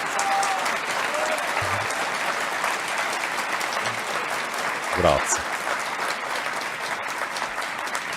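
Audience at a conference in Giza applauding steadily for several seconds, a dense wash of clapping close by, with a brief spoken word over it.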